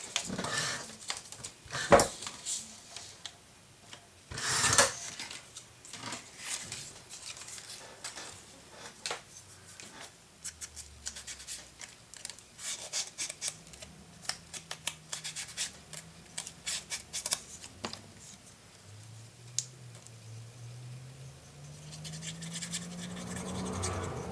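Paper being cut to size for a Graphic 45 mini album, heard as irregular scratchy snips and rustles, with a few louder cuts early on and a low murmur underneath, close and fairly quiet throughout.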